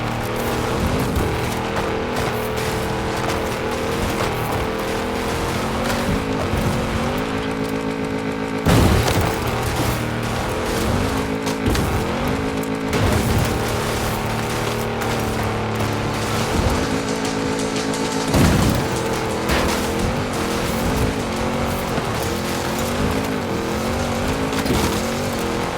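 Racing video game cars roar continuously as one car chases another, loud engine drone with tire noise and periodic crashes or booms cutting in, no talk.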